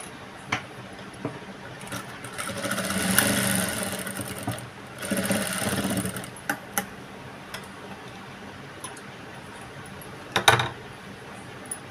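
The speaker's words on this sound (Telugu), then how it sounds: "ఇప్పుడు వచ్చేసి కాజాల పట్టీ స్టిచ్ వేస్తున్నాము" A sewing machine stitches a blouse's placket strip in short bursts, its fast ticking needle run close and clear, with quiet pauses and a few small clicks between runs.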